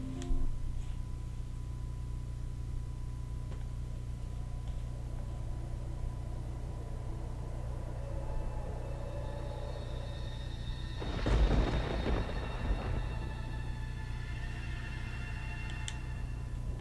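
Thunderstorm ambience from the Pankapu: The Dreamkeeper alpha demo: a low, steady background drone, then a single loud rumble of thunder rolls in about two-thirds of the way through and fades, with no speech.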